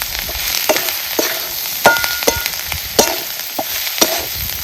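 A spoon stirs a masala mixture for a village-style dal-onion curry in a hot pan. A constant sizzle runs under irregular scraping clinks of the spoon against the pan.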